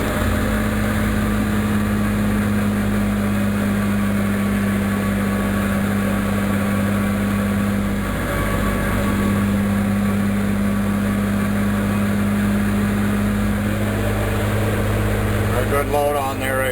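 A Cat 730 articulated rock truck's diesel engine drones steadily while shifting through its gears, a constant close hum with slight changes, under a voice talking throughout.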